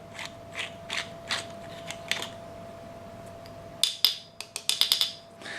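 Scattered light metallic clicks and taps from handling a metal Star Wars Black Series Darth Vader Force FX lightsaber hilt, then a quick cluster of sharper clinks and scrapes near the end, close up over faint background hum.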